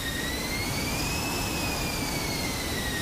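An F-16C Viper's jet engine in DCS World roars steadily with afterburner lit, a constant dense rush of noise with a high whine holding over it for the whole stretch.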